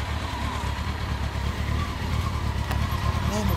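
A 2016 Harley-Davidson Sportster Forty-Eight XL1200X idles close by with a dense, low rumbling engine note that stays steady and loud from start to finish, with no one talking over it.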